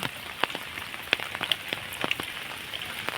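Steady monsoon rain pattering on a surface in a flooded village, with scattered louder drips tapping nearby against a constant hiss.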